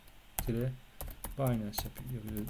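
Keys click sharply in short bursts as someone types on a computer keyboard while entering crypto data into an Excel spreadsheet, with a person talking over the tapping.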